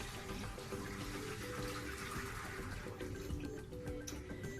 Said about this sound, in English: We go ahead and dump the water into the sink.